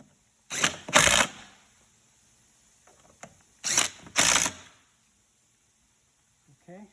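A power driver sinks lag screws into a lift recliner, with two pairs of short loud whirring bursts separated by quiet, and faint handling noises in between.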